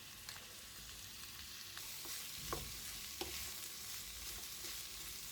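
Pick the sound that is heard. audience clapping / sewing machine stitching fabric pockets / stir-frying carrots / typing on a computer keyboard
stir-frying carrots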